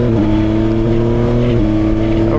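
A Yamaha Tracer 9 GT+ motorcycle from 2025 accelerates with a steady, loud engine drone that rises slightly in pitch, heard up close from the rider's position with constant wind noise.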